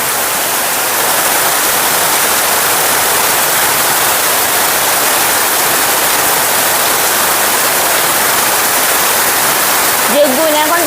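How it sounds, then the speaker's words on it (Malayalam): Heavy rain pours steadily outside a house under renovation, a dense, even roar of water that holds constant throughout, with a brief faint voice near the end. "ഘനഗംഭീരമായൊരു മഴയായിരുന്നു."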